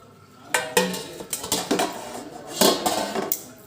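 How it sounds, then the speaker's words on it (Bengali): A lid comes off a cooking pot holding a baked chhena poda cheese cake, with a series of close metallic clanks, scrapes and rattles of metal cookware, and no voices. "এবার এটা আমি ঢাকাটা খুলব।"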